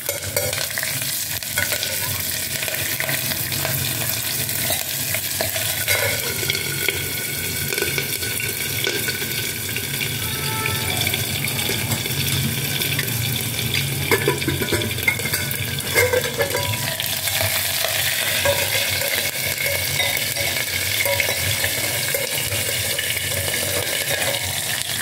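Green chili and ginger sizzle steadily in a hot pan while a spoon stirs and scrapes through them, with a continuous close frying hiss and occasional clinks, no talking.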